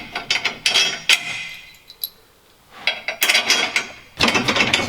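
Bolts being ratcheted tight on a camp bed frame inside a Sprinter van: close, metallic clicking runs in several short bursts separated by brief pauses.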